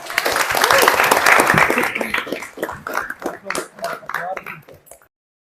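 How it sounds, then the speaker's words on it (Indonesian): Classroom applause for a student group at a vocational high school in Baubau, Indonesia: a burst of many hands clapping together, loud at first and then thinning into scattered claps that fade out by about five seconds. "beri aplaus untuk kelompok 1"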